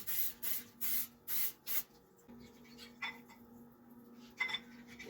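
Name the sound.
cooking spray being sprayed into a slow cooker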